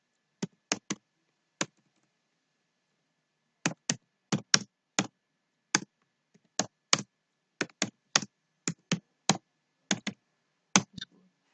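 Computer keyboard keys clack in short bursts while words are typed into a PowerPoint slide, sharp close clicks in quick clusters separated by brief pauses, in an otherwise silent room.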